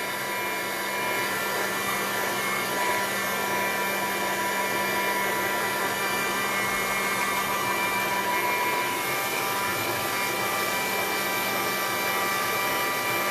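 A hair dryer blows steadily at close range to dry a decoupage mixed-media craft piece, a constant unbroken whoosh with no talk.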